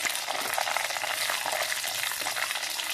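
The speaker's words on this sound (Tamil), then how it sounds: "எண்ணெயிலே நல்லா பொரியட்டும்" Mustard seeds and cumin seeds frying in hot oil in a pan for a ridge gourd kadaiyal, giving a steady, dense crackling sizzle that stays close and even throughout, with no voices.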